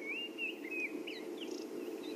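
Drongo in the African bush mimicking a robin's song, clear whistled phrases and short chirps repeated over about two seconds above a steady low background hum of other bird activity.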